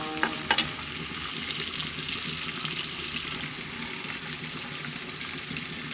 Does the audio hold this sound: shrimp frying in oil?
yes